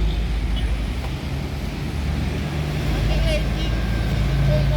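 Lorena intercity bus passing on a roadway, a steady heavy engine and traffic rumble with a faint horn-like tone, under nearby people talking.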